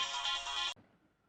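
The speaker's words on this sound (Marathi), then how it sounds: "बायकोचा फोन." A phone ringtone from an incoming call by the wife, loud and continuous for under a second before it cuts off abruptly, leaving quiet room tone.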